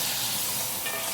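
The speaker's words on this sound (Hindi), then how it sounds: "इस मरहले पे इसके अंदर जो मैंने गोश्त बॉयल करके रखा हुआ था वो इसके अंदर शामिल करूँगी और इसको थोड़ा सा मैं फ्राई कर लूँगी प्याज के साथ।" Boiled mutton frying with onions for Lahori chana gosht, a steady dense sizzle heard close and loud with the clatter of stirring, no voices over it.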